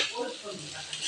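Fried eggs being stirred in a cooking pan for a Bengali-style egg dish make a steady, close sizzle of frying with soft scraping stirs and faint pan clinks.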